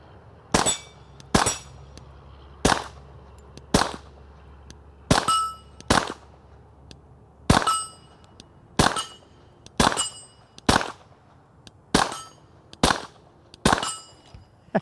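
Pistol shots from a Stoeger STR-9S 9mm fired with ball ammo at soda cans and a steel plate outdoors, a dozen or so sharp cracks spaced a second or so apart, some followed by a ringing metallic ping.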